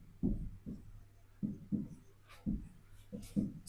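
Marker or chalk writing on a classroom board during a maths lesson, a series of short taps and scratchy strokes arriving in uneven bursts, fairly faint and close, with no talking.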